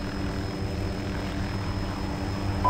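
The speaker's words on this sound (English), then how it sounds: "my chopper looks like it's stable" Helicopter flying in the video game Arma 2, a steady close rotor and engine drone with a low rumble held throughout, no voices.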